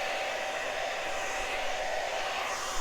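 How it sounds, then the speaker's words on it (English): A hair dryer blows a steady, even whoosh to dry paint at a flower painting party, close and continuous with no talking. "Look in places where it looks shiny and kind of concentrate your hair dryer on that."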